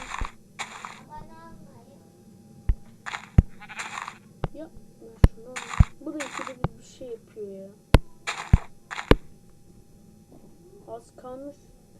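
Sheep bleat in the Minecraft video game in several short wavering calls, with sharp clicking game effects between them and a voice talking in the background.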